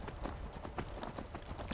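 Horse hooves clip-clop in a quick, even rhythm as a horse is ridden in Skyrim, close and steady throughout without any voices.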